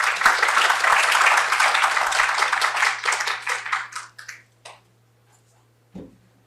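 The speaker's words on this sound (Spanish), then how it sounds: "les pido un fuerte aplauso para ellas, por favor" Applause for speakers at a medical talk, a lively round of clapping from a modest audience that holds steady and then tapers into a few scattered claps, followed by silence and one last stray clap.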